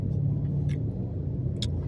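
Cars sit idling and creep along in a traffic jam, making a steady, low engine rumble that stays close and continuous, with a couple of faint higher noises and no talking.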